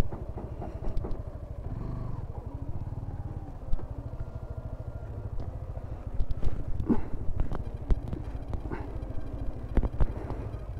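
A motorcycle engine drones steadily as the bike climbs a winding mountain road in North Sikkim during a monsoon trip, with a passenger riding pillion, plus intermittent clatter and knocks over the continuous hum.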